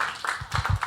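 A few quick hand claps in a church gathering during a Bible quiz, a short burst of several close claps in brisk, uneven rhythm, brief and moderately loud.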